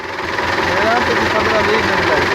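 A Belarus tractor idles in a maize field, its diesel engine holding a steady low throbbing rumble close by, while someone talks over it.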